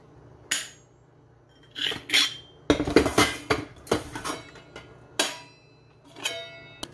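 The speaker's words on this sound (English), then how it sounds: "I found 3 pots that I thought might be suitable. They are stainless steel" Stainless steel pots clank and clink as they are set down and handled on an induction cooktop, a series of sharp metallic knocks and scrapes, close and fairly loud, with brief quiet gaps between bursts.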